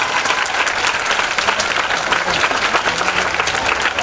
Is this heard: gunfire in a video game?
no